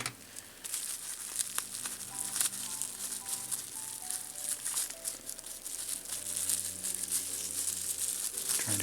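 A plastic bag holding parts for a Zlob Modular Eurorack dual VCO kit crinkles and rustles near the microphone in continuous irregular crackles while being opened, with faint synth tones underneath.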